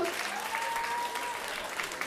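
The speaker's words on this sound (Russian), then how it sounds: "Ваши аплодисменты мы продолжаем, ребята!" Steady crowd applause fills a charity jazz concert hall, a continuous dense wash of clapping held at an even level throughout.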